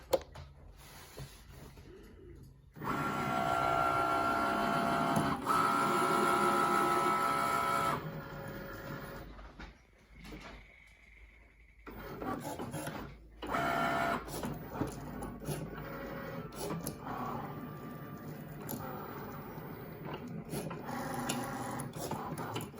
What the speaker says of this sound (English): So I'm going to run this through my Cricut.